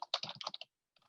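Quick, soft clatter of typing on a computer keyboard, a rapid burst of keystrokes, a short silence, then a few fainter taps.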